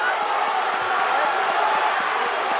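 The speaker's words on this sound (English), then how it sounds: "The Kingsway crowd, sensing victory, a team victory, is really excited" Fans at a 1997 high school wrestling match between Paulsboro and Kingsway keep up a steady roar of excited crowd noise and cheering, with faint thuds and voices mixed into the din.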